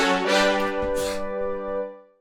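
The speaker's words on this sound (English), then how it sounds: "From there we have this brass stab" Synthesized brass stab from a funky disco house track, a bright, punchy chord hit held briefly with a couple of accents, then fading out cleanly, loud and alone.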